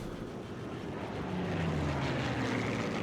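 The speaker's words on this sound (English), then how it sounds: "with the planes going overhead." Propeller planes in a World War video game drone overhead with a loud, steady engine roar that swells and thickens as they pass, alone with no talking.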